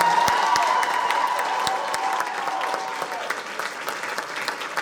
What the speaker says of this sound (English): please give a huge round of applause to Melissa for putting together.